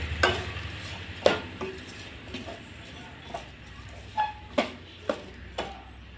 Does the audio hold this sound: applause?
no